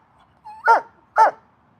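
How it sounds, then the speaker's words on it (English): A dog gives two sharp, loud barks about half a second apart, close by, with a brief whine just before and quiet around them. "He's barking up a storm."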